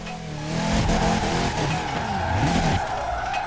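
A Ford Ranger Raptor pickup truck in Forza Horizon 4 power-slides sideways with loud tire squeal over a revving engine, the screech bending and wavering for a few seconds.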